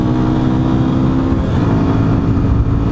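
A Yamaha Fazer 250 motorcycle engine drones steadily while riding along a rural road, a loud, close low hum with wind rumble and a slight pitch shift midway, no voices.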